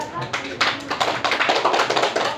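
A Grade 5 class of children clapping in a classroom, quick uneven claps that build into a lively patter, loud and close, with voices mixed in.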